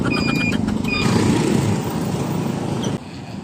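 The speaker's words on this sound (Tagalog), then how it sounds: "Traffic nga sa area na ito" Busy road traffic in an area of the Philippines, with cars and motorcycles passing close by in a steady, loud engine rumble that drops slightly near the end.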